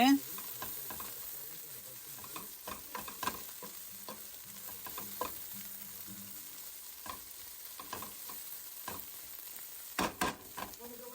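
Bitter gourd bhaji stir-frying in a pan gives a steady close sizzle, broken by repeated scraping and clattering stirs with a few sharper knocks.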